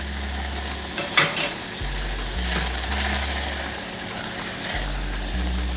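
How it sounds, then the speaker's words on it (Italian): Risotto rice that was dry-toasted in a pan is being cooked with added lobster broth, giving a steady vigorous sizzle and bubbling with occasional scrapes of stirring, with a low background rumble and no voices. "Iniziamo la cottura del riso con il brodo di astice"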